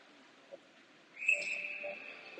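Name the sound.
referee whistle during a game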